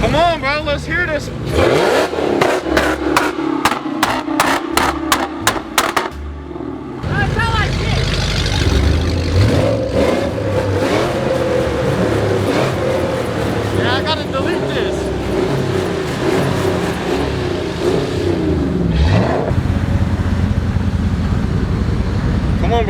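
Dodge SRT8 engine revving hard at a car meet pit, a burst of rapid throttle blips followed by a sustained loud roar and revs rising and falling, with people shouting and talking over it.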